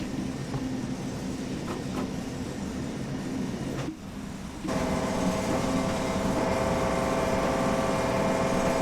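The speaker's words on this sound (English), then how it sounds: "There's the engine chugging away." A DB BR 628 diesel multiple unit's engine chugs steadily in Train Sim World 6 on a wet run near Salzburg, a low rumbling drone with rail noise that grows louder and more tonal after a brief dip.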